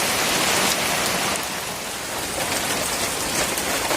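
Steady rain pours down outdoors in Dhemaji, a dense continuous hiss that eases slightly midway and then builds again, with no voices.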